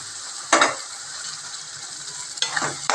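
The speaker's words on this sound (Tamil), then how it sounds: "இப்போ நம்ம கைமா வந்து சேர்த்துடலாம்" Minced chicken keema tipped into a hot pan of sautéed masala and stirred, giving two bursts of scraping and sizzling at close range over a steady low frying hiss.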